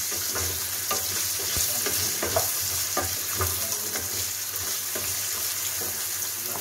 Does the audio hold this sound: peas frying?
yes